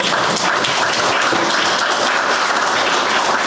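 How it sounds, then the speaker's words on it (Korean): Audience at a book launch event applauding, a continuous, dense roar of many hands clapping at steady loudness for several seconds. "이분들 위해서 박수 부탁합니다"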